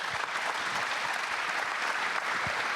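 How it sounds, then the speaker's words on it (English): Sustained applause from a conference audience honoring a panel group at an orthopedic medicine innovation event, dense and steady throughout, moderately distant, with no speech over it. "let's give it a round of applause for our group here"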